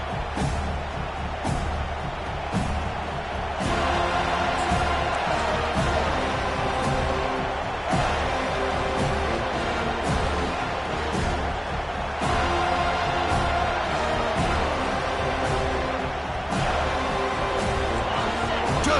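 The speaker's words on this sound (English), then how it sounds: "this home crowd is fired up and ready to make a difference today." A home stadium crowd roars through a college football video game, a dense, continuous wall of cheering that swells and dips in waves while commentators talk over it.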